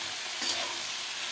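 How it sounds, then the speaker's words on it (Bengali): Soybean chunks sautéing in a home kitchen pan give a steady, close sizzle and fry hiss, with a brief stirring scrape midway and no talking. "সয়াবিনটাকে দিয়ে দিচ্ছি, সয়াবিনটাকে দিয়ে কষাবো।"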